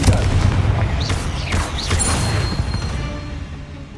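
In Hogwarts Legacy, the Confringo blasting spell sets off loud, rumbling booms and crackling blasts amid a dense, continuous wash of combat noise, with sharp swooshes cutting through the low roar.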